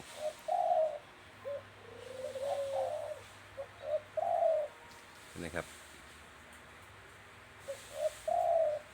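A captive dove held in a pen coos in several short, soft bursts with pauses between them, fairly close, over a low, quiet background.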